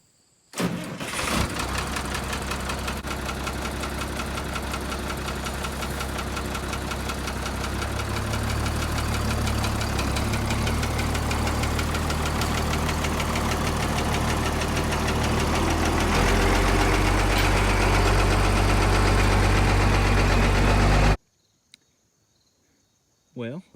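An International dump truck's engine runs steadily for about twenty seconds while the truck is driven, a loud continuous rumble with knocking texture that cuts off abruptly near the end.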